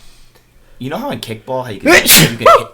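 A loud, close sneeze blasts straight into a microphone, a sharp burst that breaks into ongoing conversation between people talking.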